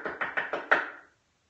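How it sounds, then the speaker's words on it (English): Five firm knocks on a wooden door, evenly paced with the last one slightly louder, close and clear, then silence. "All of a sudden, there's a knock on the door."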